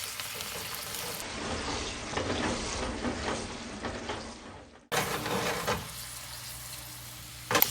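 Butter sizzling and frying in a pan of gravy, a steady close crackle with occasional stirring, the tone shifting after a brief cut midway.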